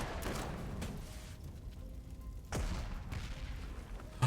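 Bombing strike in the strategy video game Panzer Corps 2: muffled booming explosions and rumbling blasts, with a strong impact near the middle and another burst at the end, over a low continuous battle rumble.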